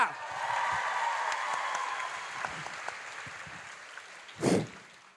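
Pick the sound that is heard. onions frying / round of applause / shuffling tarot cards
round of applause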